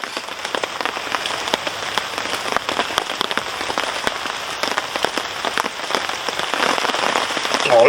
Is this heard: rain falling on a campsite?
yes